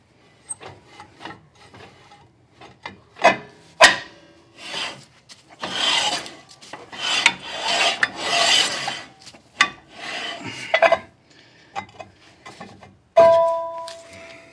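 A part rubbing and scraping on a 1962 Corvette, heard as repeated rasping, grinding strokes in uneven bursts, close and fairly loud, with brief pauses between passes and a sharper scrape near the end.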